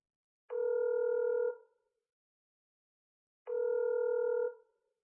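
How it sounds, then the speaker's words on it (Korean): Phone ringback tone heard while calling a number from a mobile phone: two steady electronic tone bursts about a second long each, separated by a few seconds of silence, clear and alone. "몇 번의 신호음이 울리지도 않았을 때 한 남자가 다급한 목소리로 전화를 받았다."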